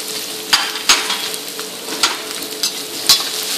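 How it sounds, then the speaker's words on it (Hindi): Chopped garlic and ginger sizzle in a hot pan for masala dosa filling, a steady frying hiss broken by several sharp scrapes of a spoon stirring against the metal. "ये 2 मिनट सौते होने के बाद"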